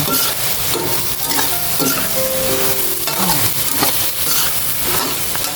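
Long eggplant being stir-fried in a pan, a continuous loud sizzle with scraping and clattering stirring strokes repeating throughout, close by, with no voices.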